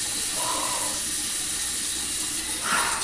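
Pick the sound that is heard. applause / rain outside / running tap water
running tap water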